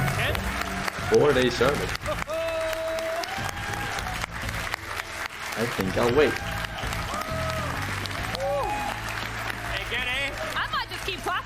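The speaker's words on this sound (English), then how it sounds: "Keep clapping." Applause and clapping from the audience at the Gamescom 2019 Xbox presentation run under a person talking, with music and voices mixed in throughout.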